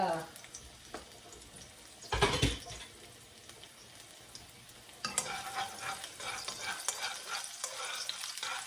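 Vegetables fry and are stirred in a home kitchen pan, making a continuous sizzle that swells with loud stirring scrapes and bursts of activity, with faint background voices.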